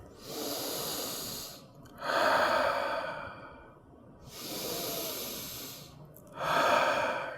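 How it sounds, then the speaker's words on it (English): Slow, deep breaths taken by a group during a children's chair yoga class, two long inhale-exhale cycles with soft airy rushes and sighing releases, close and clear with no talking. "Let's try 2 breaths. Feel it, you're breathing in your back here."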